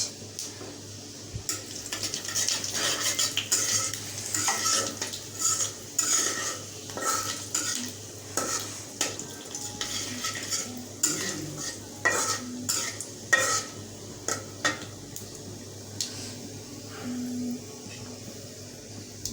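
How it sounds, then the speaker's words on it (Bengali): Cumin, bay leaf and dried chili tempering in hot oil in a pan before fish is cooked, with steady close sizzling and frequent clinks and scrapes of a utensil stirring against the pan. "এখন ফোড়নের জন্য দিয়ে দেব জিরা, তেজপাতা আর শুকনো মরিচ"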